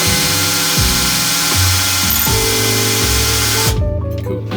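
A power drill whirs loudly and steadily close by while a wire bracelet is made, its motor pitch shifting and stepping up and down, then dropping off near the end.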